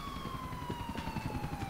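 Ambulance siren in the video game GTA 4, a steady wail sliding slowly downward, fairly loud over a busy low rumble of game traffic and engine noise.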